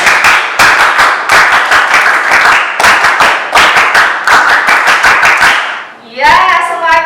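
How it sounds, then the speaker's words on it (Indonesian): A group of schoolchildren in a classroom claps a scout clapping pattern together, loud and close, in quick rhythmic bursts with brief pauses, ending with a short cheer of voices. "2 kali tepuk pramuka."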